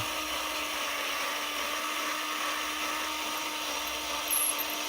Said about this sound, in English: With a low power drill.